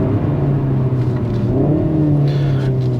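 A BMW M140i accelerates with a steady, loud, close engine drone and a rising whirring tone underneath, heard from inside the car. The sound holds continuously for the whole stretch.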